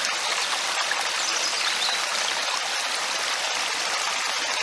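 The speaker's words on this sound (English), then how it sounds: "I want to keep the water flowing this side where the holes are for it to seep into the tank" Stream water flowing steadily around a water collection box set among rocks, a continuous close rushing and trickling wash with no voices.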